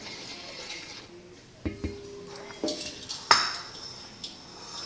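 Spoon stirring a warm milk mixture with a pinch of salt in a bowl, a few scattered clinks and scrapes against the bowl, close and fairly quiet, with no talk.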